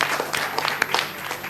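Applause at a robotics competition grand finale, a quiet, steady patter of clapping from a small audience with sharper individual claps standing out.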